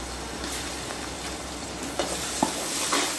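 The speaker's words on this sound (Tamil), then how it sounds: "இப்போ நம்ம இஞ்சி பூண்டு பேஸ்ட் வந்து ஒரு 1/4 கிலோ அளவுக்கு சேர்த்துக்கலாம் மொத்தத்தில்" Ginger garlic paste, about a quarter kilo, frying in oil in a pot while being stirred: a steady close sizzle with a few scraping clinks of the spoon, no voices.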